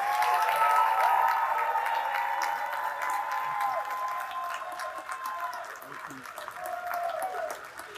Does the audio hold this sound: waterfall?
no